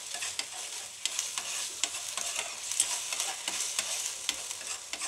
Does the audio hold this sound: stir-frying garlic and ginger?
yes